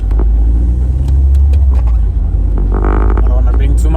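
A car driven on the road, its engine giving off a loud, steady low rumble throughout, with a brief surge of revving partway through.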